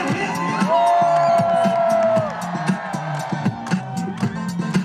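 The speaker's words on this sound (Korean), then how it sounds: "함성 소리" A large crowd cheers and shouts loudly at a Busan port outdoor festival dance performance, whoops rising over a steady roar, with rhythmic music thumping underneath.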